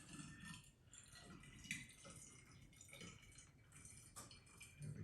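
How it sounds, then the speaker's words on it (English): A water sample is poured into a 500 ml glass separatory funnel, giving a faint, continuous splashing and trickling with small drips and glassy knocks, near and quiet. "We're going to put in our water sample here."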